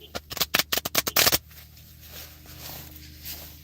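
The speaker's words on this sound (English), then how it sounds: "All right, we got some sort of shuffle going here." Hand-shuffling a large 77-card deck: a rapid run of about ten sharp riffling bursts over the first second and a half, then a quieter stretch of low room noise.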